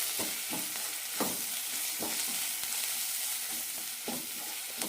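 Spices including turmeric, cumin powder and pepper sauté in a pan for cauliflower masala curry, giving a continuous hissing sizzle punctuated by regular scraping strokes of a spoon stirring the masala.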